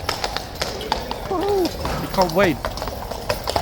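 Hooves of the King's horses clip-clop on a street in a busy, steady patter, near and distinct, while people talk close by and a few whinny-like calls sound amid the crowd.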